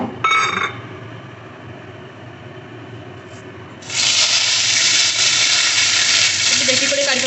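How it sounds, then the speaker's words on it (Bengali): Curry leaves dropped into hot oil already spluttering with mustard seeds and dried red chilli for a South Indian tempering give a sudden loud, bright sizzle that swells and holds steady, after a quieter crackle at the start. "কারি পাতা ফোড়নটা দেওয়া হবে।"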